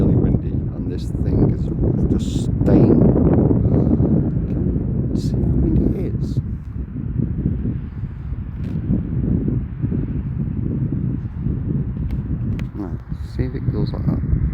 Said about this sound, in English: It's actually really windy.